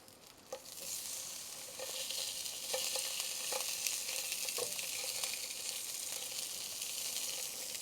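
Three sausages sizzle and fry in a pan over a gas camping stove while car camping in the rain, a steady close crackling hiss with scattered pops and spits throughout.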